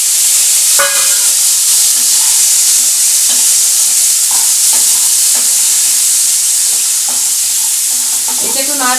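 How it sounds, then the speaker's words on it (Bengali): Green peas being stirred into a frying pan for jeera paneer rice, a steady loud sizzle with repeated scraping and clinking strokes of the spatula throughout, no talking. "দেখো, এখানে রয়েছে আমার কিছু কড়াইশুঁটি, এটা আমি মিশিয়ে দেবো।"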